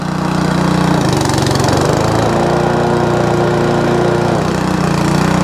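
An old lawn mower found in a barn after five years in storage starts on the first pull and runs close and loud, with a steady engine drone whose pitch dips and rises slightly.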